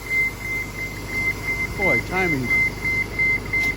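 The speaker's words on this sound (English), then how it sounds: "Oh, there's a loud beeping." A steady electronic beeping sounds at the Epcot bus stop as a Disney bus to Fort Wilderness waits, a thin tone pulsing on and off through the whole stretch while people talk over it and crowd noise fills the background.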